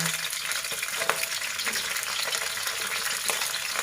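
Shredded cabbage frying in hot lard over moderate heat gives a steady, dense sizzle with small pops and crackles, close up, with no talking.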